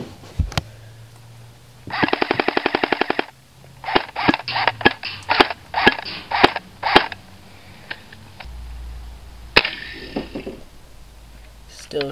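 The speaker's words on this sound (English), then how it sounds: "This is shooting with the battery powered airsoft gun." A battery-powered airsoft gun fires in a rapid burst of sharp clicks, then in several shorter bursts and single shots, close by with quiet gaps between.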